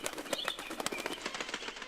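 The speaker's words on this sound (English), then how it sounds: "There was birds." Rapid fluttering and flapping of wings in Super Mario Maker, a burst of video game birds taking off close by with sharp crackling beats throughout.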